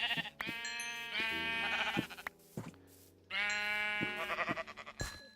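Two rounds of wavering sheep bleats from Minecraft, each held for over a second and separated by a short pause, loud and close over a soft game background.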